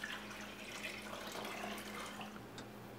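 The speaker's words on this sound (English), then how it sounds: "To start, put 2 liters of vinegar into a pot." Two liters of vinegar pour steadily into a pot, making a continuous soft splashing trickle that stays even from start to finish.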